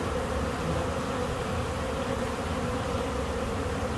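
A honeybee swarm buzzes loudly and continuously around a bucket, a dense, steady hum of many wings with no voices.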